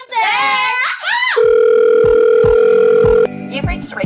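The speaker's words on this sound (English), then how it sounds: "And then a beep, boop, boop, boop, beep, boop, beep." Telephone keypad tones and a long steady dial tone on a phone line, a few close beeps followed by a sustained loud tone, with a voice talking before and after.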